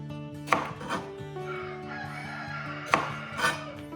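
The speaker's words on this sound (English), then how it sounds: "our rooster knows it's morning too. He's trying to wake everybody up." A backyard rooster crows in the morning, two long cock-a-doodle-doo calls sounding close and clear over a low steady hum, with faint chopping clicks from jalapeños being cut nearby.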